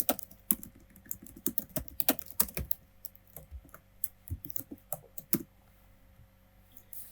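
Rapid, irregular keystrokes on a computer keyboard while HTML code for a React and Tailwind e-commerce page is entered, with clustered clicks and short pauses, close and clear with no talking.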